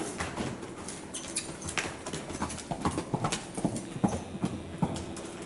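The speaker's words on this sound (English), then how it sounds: "he is a very young horse" Steady hoofbeats of a young three-year-old horse walking at an even pace, moderately close, with faint background noise and no talk.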